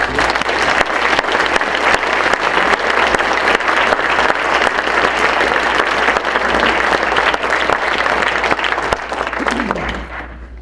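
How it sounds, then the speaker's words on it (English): Loud, sustained applause from an audience at a philanthropy award celebration, clapping for the event's sponsors, a dense steady roar of hands that fades slightly near the end. "let's give the sponsors another round of applause."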